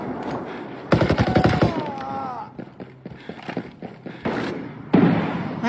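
Gunfire in a shooter game, with sharp bursts of shots loud and close, broken by quieter gaps and game sounds, and someone talking at times.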